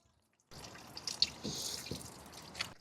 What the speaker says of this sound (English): we are draining and making a mess. We're gonna let that drain out